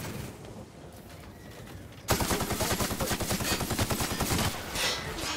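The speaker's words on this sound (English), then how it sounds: "don't like you shooting back at me" Enemy gunfire in The Outer Worlds, a quiet lull broken by a sudden burst of rapid, rhythmic automatic shots that keeps rattling loudly for several seconds.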